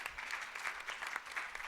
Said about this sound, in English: once again, a big round of applause for our speakers